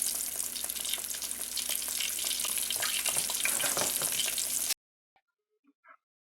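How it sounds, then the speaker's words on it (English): Catfish frying in hot oil in a single layer gives a loud, steady crackling sizzle close up, which cuts off abruptly near the end, leaving a few faint clinks in silence. "Once your oil is up to temperature, add your fish in a single layer."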